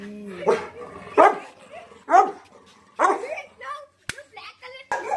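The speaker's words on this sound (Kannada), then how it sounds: "ನೋಡಿ ಲ್ಯಾಬ್ ನಾಯಿ." A Labrador dog at a restaurant gives a series of loud, close barks and yips, about five in quick succession, with a few whimpering sounds between them and some background voices.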